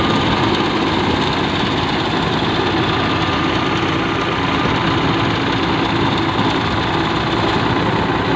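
A tractor-driven grass cutter machine runs without load in a field, its engine giving a loud, steady, even drone that holds unchanged from start to finish with no voices over it.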